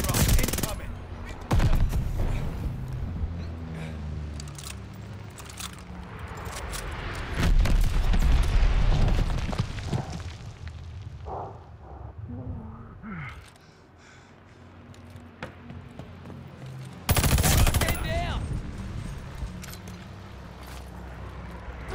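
Gunfire in the video game Call of Duty Vanguard during a team deathmatch on the USS Texas, with loud bursts of automatic fire and booming explosions, bursts rising and falling over the clip.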